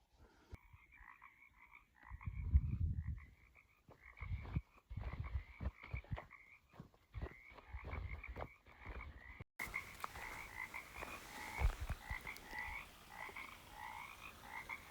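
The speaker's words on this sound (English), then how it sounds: "You can hear those frogs are as happy as I am to be out here." A chorus of frogs croaks steadily from a creek swollen by recent rains along the Chumash Trail, rhythmic and layered, with nearby footsteps and rustling thumps underneath.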